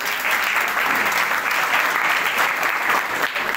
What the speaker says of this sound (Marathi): एकदा या मुलांसाठी जोरदार टाळ्या वाजवा.